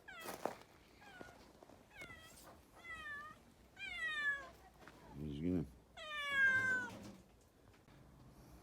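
Several cats meow repeatedly in short rising and falling cries, close and fairly loud, while someone speaks briefly; a rescued cat being caught and fed outdoors.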